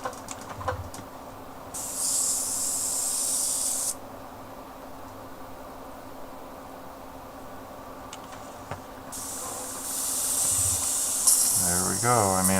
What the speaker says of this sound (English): just spray on the cardboard for a minute